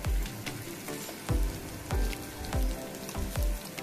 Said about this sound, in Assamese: এইখিনিও অলপ সময় মই ভাজিম, 2 মিনিট 3 মিনিটমান